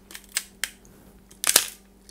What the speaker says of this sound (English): You can see the shutter open and then 1 second later close.